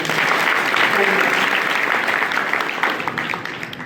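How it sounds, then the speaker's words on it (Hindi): Strong applause from a crowd at a girls' competitive exam event at Jatela Dham, Majra Dubaldhan, a loud continuous clatter of many hands with voices mixed in underneath. "उनके लिए जोरदार तालियां"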